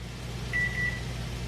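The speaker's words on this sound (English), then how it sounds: "My timer is going off." A kitchen timer goes off with a few short, high electronic beeps in quick succession, moderately loud over a steady low background hum.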